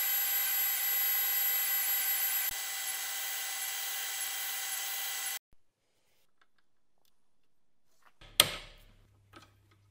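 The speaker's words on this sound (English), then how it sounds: "Now that I've dished the front of this tool, I can grind a hex to size." A Dremel grinds a hex onto a bevel cutter tool, a steady high whine for about five seconds that cuts off abruptly, followed by quiet and then a brief burst of noise.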